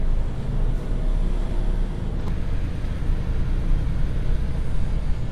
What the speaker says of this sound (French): on est parti pour essayer ce nouveau Actros